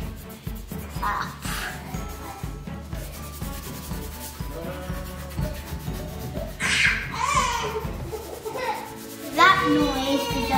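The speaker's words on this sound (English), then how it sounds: "That noise is just my baby brother crying." Baby crying faintly in the background, with rising wails near the end, under close rubbing and scratching of drawing on paper.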